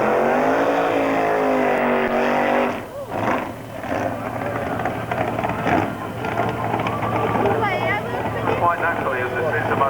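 A drag racing engine at the 1993 European Drag Bike Championship at Avon Park roars and rises in pitch, then fades into a rumbling background while a commentator talks over it.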